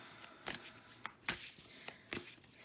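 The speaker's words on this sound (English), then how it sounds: "I'm going to shuffle this" Tarot cards are shuffled by hand in several quick riffling bursts, close and crisp, with short pauses between them and no talking.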